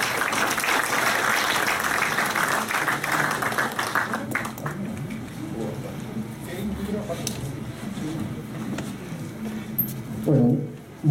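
Applause welcoming a speaker at a seminar: a clapping audience for several seconds, tapering off into scattered claps and room murmur before a voice begins.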